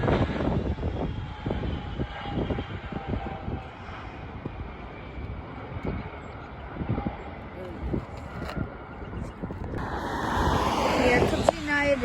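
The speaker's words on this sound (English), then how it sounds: "Spirit landing in Philadelphia." A Spirit Airlines passenger jet landing at Philadelphia International Airport gives a steady, broad engine roar that swells toward the end, heard from the ground outdoors with wind noise and some people talking nearby.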